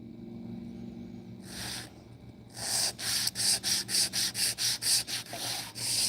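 Sandpaper rubs over small parts in quick strokes, first a couple of isolated passes, then a steady run of about a dozen evenly spaced scratchy rasps, close and fairly loud, with no talking.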